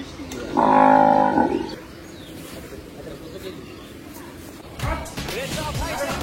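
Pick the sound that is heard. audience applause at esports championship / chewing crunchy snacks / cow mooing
cow mooing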